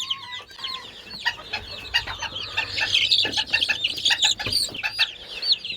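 Pigeon chicks cheeping in a loft, a dense flurry of high, rapid peeping calls overlapping one another, close and fairly loud, with occasional rustling and wing flutters.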